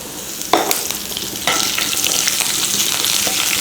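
Curry leaves hit hot oil with a sharp spit, then a steady close sizzle and crackle carries on, with a second burst of spattering partway through and light stirring underneath.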